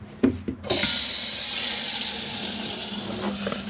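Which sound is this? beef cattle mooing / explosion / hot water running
hot water running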